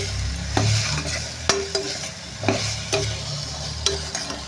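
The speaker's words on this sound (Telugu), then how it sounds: "ఉప్పు అయితే వేసేసానండి ఒకసారి మళ్ళీ కలిపేసుకుందాం" A drumstick and egg curry is stirred in a pan, with repeated scraping strokes of a spoon every half second or so over a soft, steady background sizzle, close and without speech.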